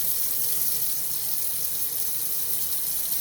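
Tap water runs steadily from a sink faucet as PS4 disc drive rollers lathered in Dawn soap are rinsed under it, a close, continuous splashing hiss with no talk.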